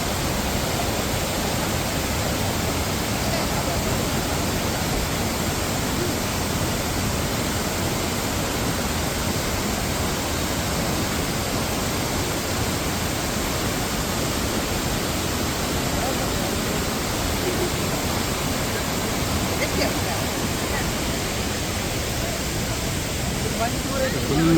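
A waterfall in Coorg runs heavy with peak monsoon flow, giving a loud, constant broadband roar that never breaks or changes across the whole stretch, close at hand.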